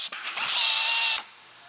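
A pneumatic rivnut tool spin-pulls a 1/4-20 rivet nut, a short sharp air-driven whir that rises, holds for about half a second and cuts off abruptly, loud and close.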